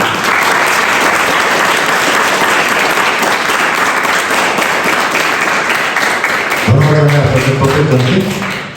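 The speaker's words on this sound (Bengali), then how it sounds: "আমরা এখন জোরে তাদের জন্য আমরা একটা করতালি দিই" An audience at a music camp breaks into loud, sustained applause that fills the room for several seconds, then a voice begins talking over the fading claps.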